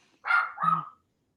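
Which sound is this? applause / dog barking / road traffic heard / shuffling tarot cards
dog barking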